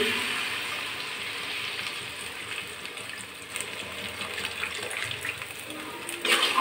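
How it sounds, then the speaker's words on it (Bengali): Water pours into a pan of sea fish curry cooked with tomato, a steady close rush and hiss of liquid hitting the hot pan, with a brief louder gush near the end. "এবার আমি একটু জল দিয়ে দিচ্ছি।"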